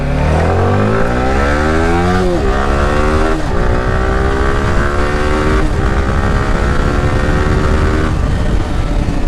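A Yamaha R15M motorcycle's engine pulls loudly while riding, its pitch climbing steadily through each gear and dropping briefly at every upshift, repeated several times over a constant wind and road roar.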